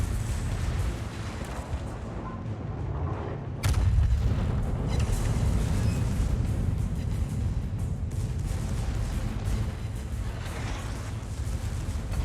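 A battleship's secondary guns fire in World of Warships, producing continuous rumbling booms and rapid blasts that thicken into a louder, denser barrage after a sharp crack a few seconds in.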